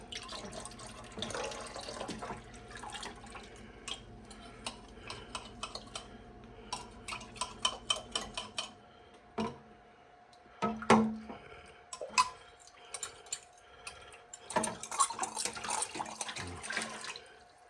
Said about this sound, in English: we're going to gently stir this in